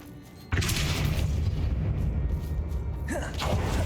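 A Depulso force spell cast in Hogwarts Legacy lands as a sudden deep whooshing boom that rumbles on loudly for several seconds, followed by a second swelling burst near the end.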